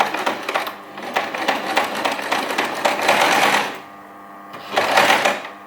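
A basic domestic sewing machine stitches a seam through fabric in reverse, a fast, steady mechanical clatter that runs for a few seconds, stops briefly, then starts again in a shorter burst, close and fairly loud.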